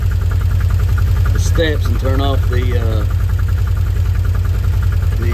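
A Can-Am Commander 800XT side-by-side engine idles steadily and close by, a constant low rumble under a man's brief speech.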